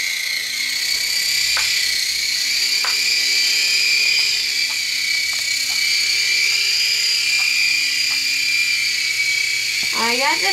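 An Air Hogs toy RC helicopter hovers nearby with a steady high-pitched electric whine, unbroken for about ten seconds, with faint clicks underneath.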